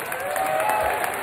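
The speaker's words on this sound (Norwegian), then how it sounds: "En applaus." An audience at a book launch and concert claps steadily for a guitarist being introduced, a continuous even patter of many hands lasting a second or so.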